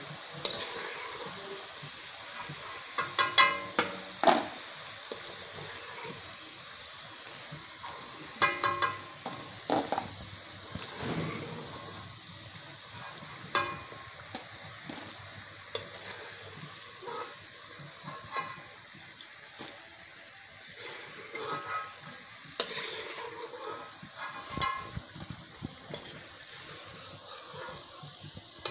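Oil sizzles and crackles steadily as potato fries cook, with occasional sharper pops and clinks from stirring; no talking.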